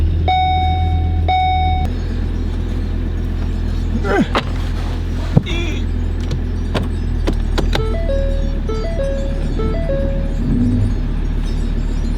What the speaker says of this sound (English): I'm going to try and drive this thing about 20 feet forward to plug it in